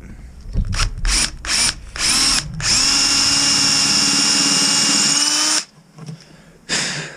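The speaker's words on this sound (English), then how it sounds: "So let's drill a hole in it." A power drill bores into old, woodworm-riddled end-grain wood: a few short revving bursts, then a long steady close-up whine that cuts off abruptly, with no talking.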